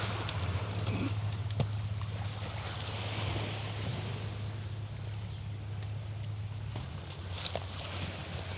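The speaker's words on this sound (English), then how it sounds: "We're gonna get destroyed by these waves" Ocean waves break and wash against a rocky shoreline, a steady loud surf roar with wind buffeting the microphone and a few sharper splashes close by.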